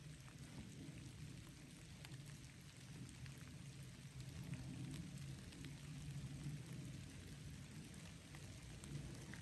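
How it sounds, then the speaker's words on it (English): Rain falls steadily through the woods of a hollow, a soft continuous patter and hiss at moderate distance with no voices over it. "It's starting to rain harder."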